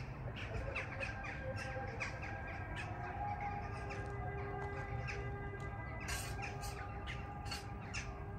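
Sharp, raspy bird squawks repeat irregularly over a low steady rumble, fairly faint and somewhat distant, beside a campfire at a bungalow in Sapanca.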